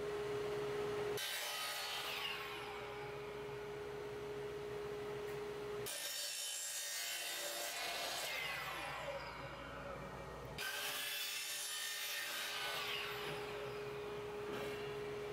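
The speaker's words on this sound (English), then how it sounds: "We've got a cheap blade on the chop saw right now." A chop saw fitted with a cheap blade cuts through 2-inch PVC pipe in three long, harsh rasping passes, each beginning abruptly, loud and close with a steady whine and no voices.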